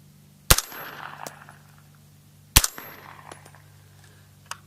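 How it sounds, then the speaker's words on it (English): Two sharp, loud shots from a PWS piston-driven 300 Blackout pistol wearing a Silencer Co. Omega 9K suppressor and firing S&B subsonic ammunition, spaced about two seconds apart, each followed by a brief mechanical clatter and ringing tail. "with the S&B subsonic ammo with the Silencer Co. Omega 9K on the PWS piston driven 300 blackout pistol."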